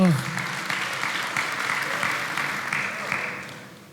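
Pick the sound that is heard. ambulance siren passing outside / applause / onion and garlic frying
applause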